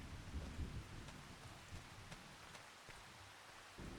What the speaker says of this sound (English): Oh, it's raining. Of course it's raining.